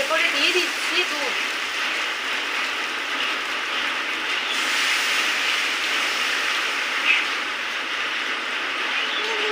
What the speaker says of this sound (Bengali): এরপরে দিয়ে দিচ্ছি দুধ।